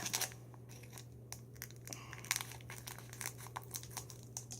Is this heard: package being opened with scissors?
yes